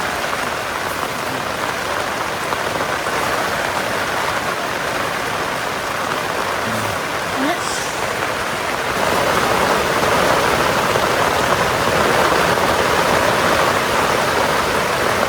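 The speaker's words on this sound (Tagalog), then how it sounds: "Guys, ang lakas ng ulan." Heavy rain pours down in a loud, dense, continuous roar that grows even stronger partway through.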